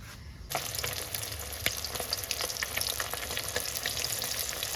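Fish pieces frying in oil over a steady sizzle, with faint scraping stirs and occasional light clinks near the pan, continuing throughout with no talk.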